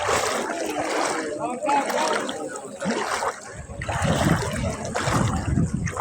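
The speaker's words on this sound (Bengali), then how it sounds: "সরে যাও, গাড়ি আসছে পিছনে।" A vehicle wading through flood water in a village street, water sloshing and splashing around it up close, with people talking and calling out over the noise.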